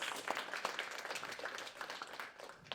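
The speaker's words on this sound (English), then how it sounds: "let's give another round of applause for the interns" Steady applause from a crowd, a dense patter of many hands clapping at moderate volume, continuing throughout without a break.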